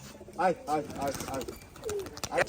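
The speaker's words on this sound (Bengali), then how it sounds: "কবুতর দেখছেন অনেকগুলা কবুতর পঞ্চাশ পিস কবুতর" Giribaj pigeons at a pigeon farm coo in low, rolling calls close by, and someone talks over the flock.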